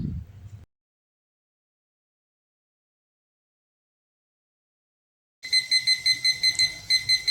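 Kitchen timer alarm beeps in a rapid repeating pattern, about ten evenly spaced electronic pulses, loud and close, sounding alone after a long silence.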